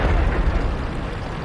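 A heavy cannon shot from a KV-1S Soviet heavy tank in a tank battle video game, a loud booming blast with a rumbling low tail, alone with no talk.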